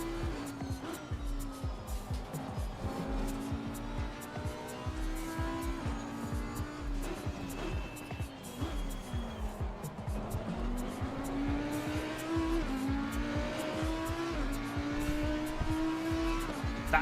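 Race cars in Assetto Corsa Competizione run in a large pack, several engines droning and shifting together with continuous tire squeal throughout, loud and close, a steady wall of engine noise with no one talking.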